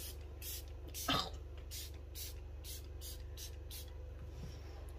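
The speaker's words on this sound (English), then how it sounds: "So I get a new setting spray, a sophx misting spray from Makeup Revolution." Makeup Revolution setting spray misting in a series of short, sharp hissing bursts spaced across the moment, close to the mic, with a throat sound in between over a low background hum.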